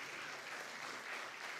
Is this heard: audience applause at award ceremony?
yes